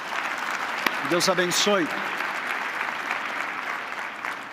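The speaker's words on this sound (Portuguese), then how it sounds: "Uma salva de palmas para aqueles que estão voltando." Steady applause from a church congregation welcoming back returning members at a New Year service, filling the whole stretch, with someone speaking briefly over it.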